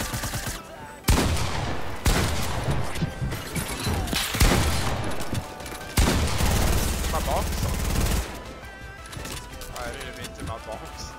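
Shotgun and other gunfire in a competitive duos video game match, loud repeated bursts and single blasts in quick succession under frequent player talk, with brief gaps between volleys.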